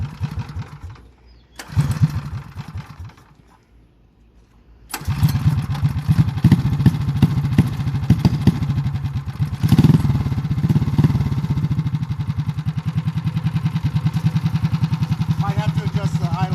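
A Tillotson 212cc small engine with its governor removed cuts out briefly, then restarts and runs steadily with a loud, rapid, even firing beat close by.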